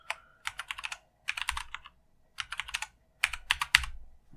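Keys clatter on a computer keyboard as a password is typed while installing the Linux Lite operating system, coming in several quick bursts of clicks with short pauses between them, close and clear with no voice.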